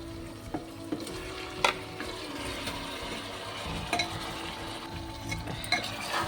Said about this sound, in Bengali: এবারে চিকেনের টুকরোগুলো দিয়ে দেবো।